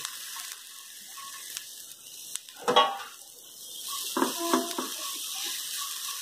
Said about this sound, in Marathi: एक चार पाच मिनिटं आपण याला परतून घेणार आहोत